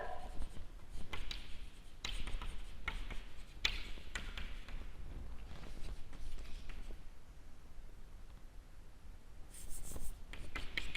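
A pen scratches across paper writing out a truth table, close and quiet, with short strokes and taps in an irregular rhythm.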